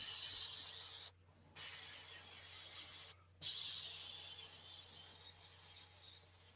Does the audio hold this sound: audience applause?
no